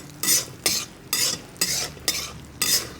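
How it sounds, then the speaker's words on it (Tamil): Almonds and cashews frying in oil and stirred with a utensil, six evenly spaced scraping strokes with a soft sizzle beneath, close and fairly loud. "இவனை எல்லாரையும் போட்டு அந்த ஆயிலில் இவனுங்க எல்லோரும் கிறிஸ்பி ஆகிற மாதிரி"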